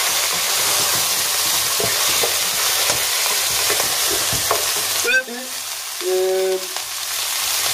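Beef fries in its own fat in a pan, a loud, continuous close sizzle with stirring noise, and a short voiced sound near the end.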